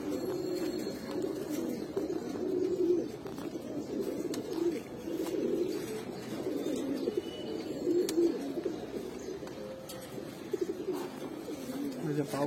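A steady, low cooing from Giribaz pigeons carries on throughout, with voices now and then and a constant background hiss.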